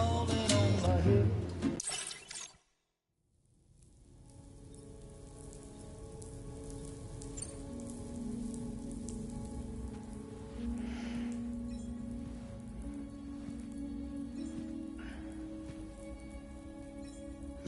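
Steady rainfall in the video game Death Stranding 2 drums on surfaces with a dense, even patter, rising after a short loud burst and gap and continuing unbroken in the foreground without speech.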